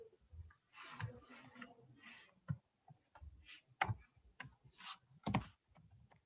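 Code is typed on a computer keyboard, quiet irregular clicks and key taps coming in short bursts with pauses, close and soft, with no talk over it.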